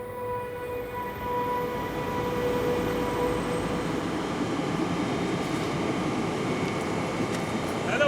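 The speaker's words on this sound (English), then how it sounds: "driving the train down to the fjord" The Flåmsbana train runs down the steep standard-gauge railway toward the fjord in Norway, a steady rolling rumble with long high-pitched wheel squeals and a constant grinding hum, no speech over it.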